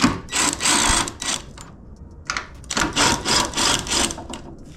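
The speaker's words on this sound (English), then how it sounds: "Then you undo the top bolts, which I'm doing now." Top mount bolts on a car's coilovers are undone with a powered tool in repeated short, loud rattling bursts separated by brief pauses, up close.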